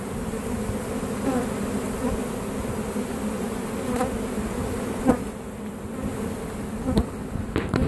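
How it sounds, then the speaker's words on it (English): Honeybees buzz steadily around a hive under a mobile home porch at dusk, with a single bee fanning near the entrance and a few brief clicks and bumps over the continuous drone. "There's one left out here on the porch doing the fanning to call any final stragglers home."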